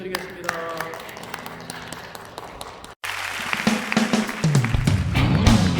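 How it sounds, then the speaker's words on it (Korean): Congregation clapping in praise during a Friday late-night church worship service, a dense sustained burst of applause swelling louder toward the end, with a voice speaking over it. "주님께 영광의 박수 올려드리겠습니다"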